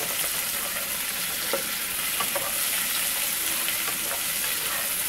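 Shrimp being stirred and fried in a pan for a spicy kabocha squash curry, a loud steady sizzle with light scraping and clinks of stirring, close up and without speech.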